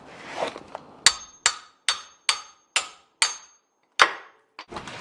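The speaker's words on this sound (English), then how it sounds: "So we've got the hammer." Steel hammer striking a painted-in rear differential plug on an R180 STI rear diff, delivering about eight sharp metallic blows in an irregular rhythm, close and loud, with faint clatter between hits.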